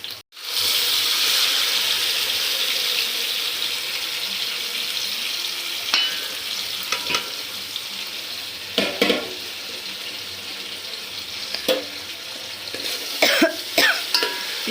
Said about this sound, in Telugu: సో ఉల్లిగడ్డలు ఈ విధంగా వేగినాక